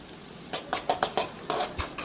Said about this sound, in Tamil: வெங்காயம் போட்டு நல்லா வதக்கணும்